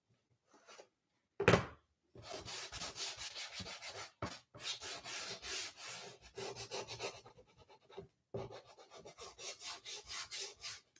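Hand sanding of a wooden bunny craft sign, close rhythmic rasping strokes in repeated bursts separated by brief pauses, with a sharp knock early on.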